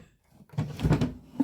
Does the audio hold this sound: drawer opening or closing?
yes